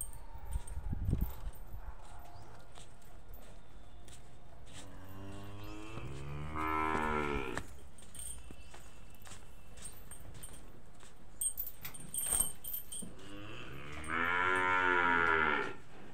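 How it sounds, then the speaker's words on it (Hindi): A buffalo and her month-old calf low on a dairy farm, two long, loud nasal moos about seven seconds apart over quiet background noise with faint hoof and shuffling sounds. "ये हमारी भैंस और ये इसकी कटड़ी"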